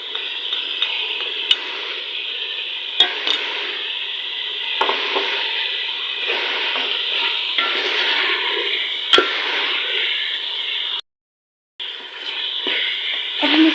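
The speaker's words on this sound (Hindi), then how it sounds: "चिकन जो हल्के आंच पे जो फ्राई हो रहा है" Chicken fries in oil over a low flame for a creamy chicken dish, with a continuous close sizzle, occasional clicks of a utensil and a brief silent gap near the end.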